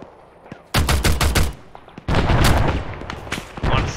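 Gunfire in the video game ARMA 3, rapid bursts of close, loud rounds in two heavy volleys with scattered single shots between, a dense automatic barrage with no talk over it.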